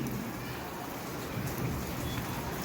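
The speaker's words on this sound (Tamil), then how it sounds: "நல்ல மழை அப்படின்னு சொல்ல முடியாது லைட்டாக தூரல் தூரிட்டுருக்கு" Light drizzle falls on a rooftop terrace garden as a quiet, steady patter and hiss of fine drops, with no other clear sounds.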